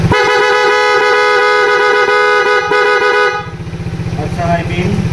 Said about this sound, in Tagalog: Check po natin yung busina,